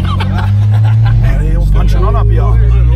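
A car drives past on a street in a town, its engine rumble swelling and fading, while several people talk and shout loudly over it.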